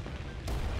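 Bomb detonation in War Thunder, a sharp heavy boom that lands about halfway through the brief moment, preceded by a steady rumbling battlefield background.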